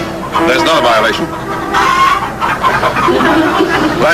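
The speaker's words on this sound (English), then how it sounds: "Live chickens on sidewalk." Live chickens on a city sidewalk cluck in loud, choppy bursts close by, mixed with a voice talking over them.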